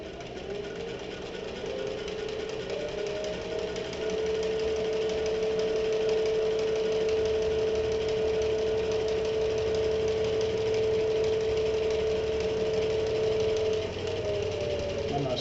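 A sewing machine stitches a messenger bag, its motor whirring up to a sustained high-speed run for about ten seconds before easing off, close and steady.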